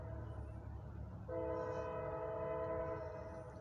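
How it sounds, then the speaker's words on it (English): A northbound CSX freight coil train approaches. After a low rumble, its horn starts partway through and sounds as a long, steady, loud chord. "We got the northbound train coming here on track one."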